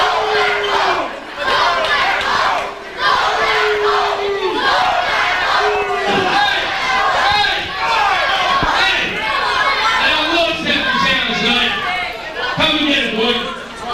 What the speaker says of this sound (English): the crowd is chanting for Sheikh Mohammed to go back home